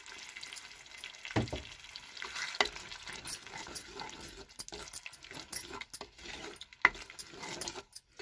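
Oil is spooned into a pan of simmering tomato chutney, with a soft, low sizzle and bubbling broken by scattered stirring clicks and scrapes, heard quietly and close.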